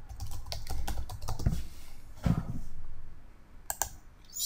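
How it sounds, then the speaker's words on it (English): Quick clicking keystrokes on a computer keyboard as a search is typed, in short irregular bursts with a brief pause partway through, close and fairly quiet with no talking. "Just type in your search at the top."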